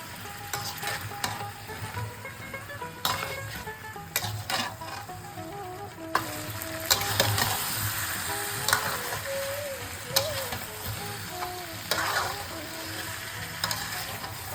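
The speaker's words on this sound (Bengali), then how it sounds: "ওইদিকে মাংসটা কিন্তু আমাদের খুব ভালোভাবে কষানো হয়ে গেছে" Mutton sizzling and being stirred as it is sautéed in a pan with yogurt and spices, a continuous close frying hiss broken by frequent scraping strokes and clinks, with faint talk in the background.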